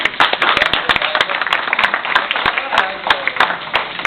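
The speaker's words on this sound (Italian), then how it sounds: "Prego, un applauso." A crowd claps steadily in sustained applause, dense and fairly loud, with voices murmuring underneath.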